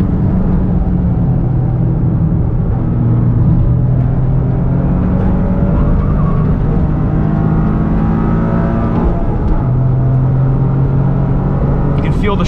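Toyota GR Corolla engine accelerating hard on a race track with short gearing, loud and close, rising through the revs in sustained pulls with a brief shift dip near the end.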